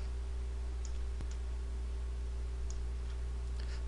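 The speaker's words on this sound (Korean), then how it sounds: "Alt 키 눌러서 클릭해 주시도록 하시고요." A computer mouse clicks a few times while the Alt key is held, light sparse ticks over a constant electrical hum in a quiet room.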